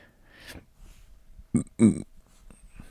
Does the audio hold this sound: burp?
yes